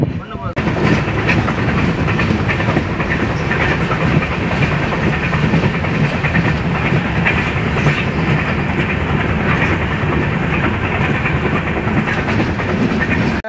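Bhubaneswar-Rameswaram weekly express running at speed, a loud continuous rumble with rhythmic clickety-clack of wheels over rail joints and a steady hiss throughout.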